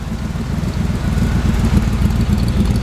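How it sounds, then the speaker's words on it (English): A 1948 Plymouth coupe with side port exhaust idles nearby, a steady low rumble with a slightly uneven pulsing beat throughout. "It's got side port exhaust. Little rumble to it."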